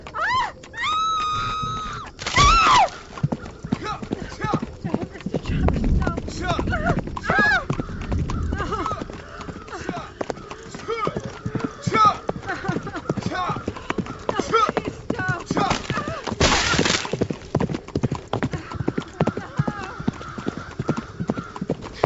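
Horses pulling a cart clip-clop steadily across the whole stretch, loud and close, with a whinny near the start and bursts of screaming or groaning voices over the hoofbeats.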